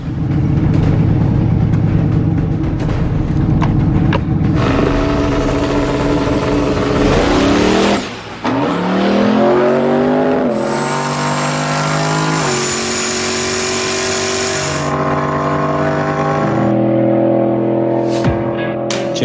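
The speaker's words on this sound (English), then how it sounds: "She's going to go right into the trans brake launches." A drag race car doing trans brake launches on a wet track, with a loud engine revving and roaring hard throughout, a brief drop near the middle, then rising high-pitched acceleration that fades and returns.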